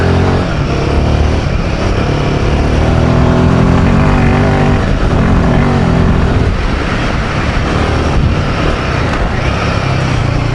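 A Royal Enfield Himalayan 450 motorcycle accelerating hard with the throttle held open, a loud, steady engine roar with wind rush, sustained and close for the whole stretch without any talk.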